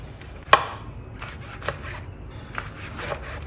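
A knife chops vegetables on a board, one sharp close cut followed by a few fainter, irregular chops over quiet room background.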